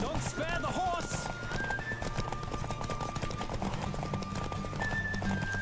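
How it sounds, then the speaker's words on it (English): Horse galloping in The Witcher 3 video game, rapid steady hoofbeats running throughout with a neigh near the start, mixed with game music tones and a voice talking over it. "Don't spare the horse."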